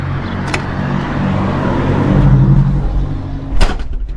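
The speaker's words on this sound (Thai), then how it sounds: "อุ่นเครื่องรถเนี่ยรถขันนี้บ่ค่อยได้ขี่" A motorbike engine warms up after sitting mostly unridden, a steady low idling rumble that swells slightly midway, with a couple of brief clunks on top and a market setting around it.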